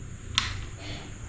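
A wall light switch is flicked on with a single sharp, close click inside an old inherited family house, followed by quiet room tone.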